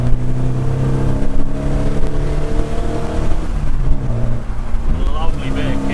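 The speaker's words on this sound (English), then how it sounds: "the engine actually works and revs really freely" A 1978 Ford Escort RS2000 with a Pinto engine revs freely and drones close by, pitch rising and falling, with someone talking over it.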